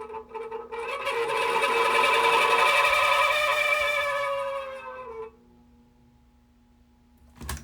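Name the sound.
electric fan running with bad bearings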